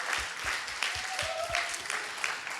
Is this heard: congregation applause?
yes